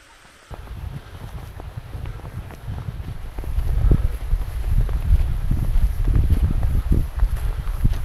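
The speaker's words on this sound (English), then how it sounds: "There's a bit of wind at the minute as well." Wind at a reservoir by the Ayrshire dam in Scotland buffets the microphone in a steady, low, rumbling roar that grows stronger after the first few seconds, with faint thuds underneath and no talking.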